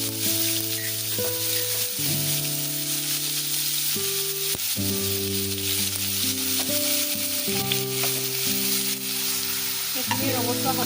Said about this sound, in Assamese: চপ কৰি লোৱা পিঁয়াজখিনি দি দিম।